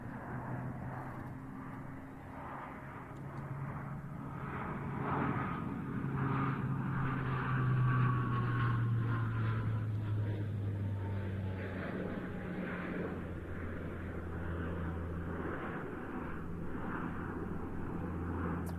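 A C-27 Spartan military transport aircraft in an aerobatic display, its engines droning loud and steady, the pitch sliding down as it passes and recedes across the show.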